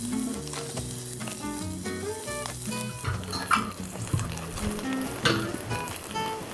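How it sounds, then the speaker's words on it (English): Vegetables sauté in a pan over a campfire with a steady, loud sizzle, joined by occasional stirring and utensil clinks, while music plays in the background. "So I'm going to give myself a chance by sauteing vegetables while my fire gets going"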